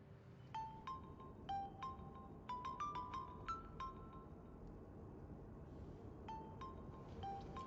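Phone ringing in a car, a faint series of high electronic ring tones in short bursts, two clusters separated by a pause, over low engine and road rumble.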